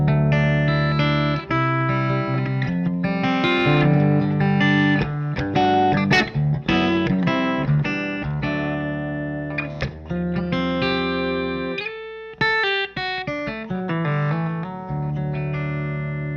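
An electric guitar plays ringing chords and single notes through a Jackson Ampworks Atlantic 4.0 tube amplifier, bright bell-like tones and sustained with a slight crunch, close up and alone.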